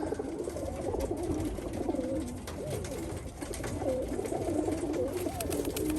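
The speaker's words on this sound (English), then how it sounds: "A lot of top quality racing pigeons." Several racing pigeons coo continuously nearby, soft overlapping throaty calls rolling on without pause.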